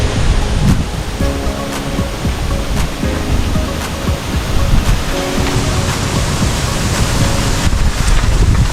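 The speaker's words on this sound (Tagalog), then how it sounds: "ang lakas po ng alon tumasampa po sa kalsada" Strong ocean waves driven by Typhoon Pepito surge and crash onto a coastal road in Bicol, a loud continuous roar of surf and wind that fills the whole stretch with no break.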